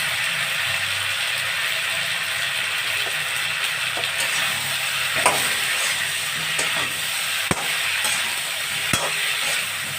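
Cauliflower and hilsa fish sizzle steadily in oil in a pan while turmeric goes in. A spoon scrapes and taps against the pan now and then over the constant frying hiss.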